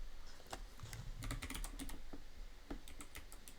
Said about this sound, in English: I'm going to do a poll using my Artesian Builds custom keyboard.